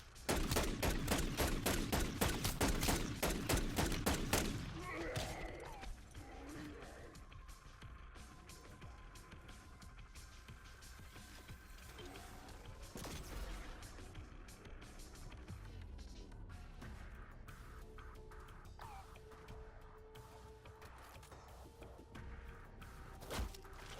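Fast automatic gunfire from a weapon in MW3 Zombies sounds in a loud, rapid burst, then fades into quieter game ambience with a few scattered later shots.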